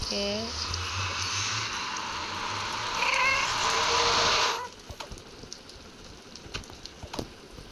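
A ghast in Craft World, a Minecraft-like game set in the Nether, lets out drawn-out wailing cries over a steady rain-like hiss that cuts off midway, followed by scattered clicks and game sounds; a person talks.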